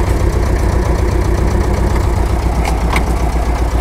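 A tractor engine runs steadily during winter ploughing, a loud, close, continuous low rumble with a rough knocking pulse, no talk over it.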